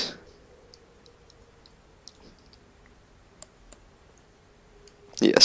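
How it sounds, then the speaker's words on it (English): Scattered, sparse clicks of a computer keyboard being typed on sound faint and irregular over a quiet steady hum, with a brief louder noise at the start and end. "still typing stuff"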